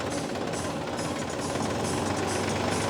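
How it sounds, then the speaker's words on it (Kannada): A Simpson Super Torque tractor engine runs at an agricultural fair, giving a steady, dense mechanical drone with a faint knocking texture that holds at an even loudness throughout, with no voices. "ನಮ್ಮದು ಸಿಮ್ಸಾನ್ ಸೂಪರ್ ಟಾರ್ಕ್ ಇಂಜಿನ್ ಇದೆ"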